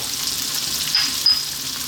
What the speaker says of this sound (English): We're now going to drop in our fresh chili and our 1 tablespoon of garlic ginger paste.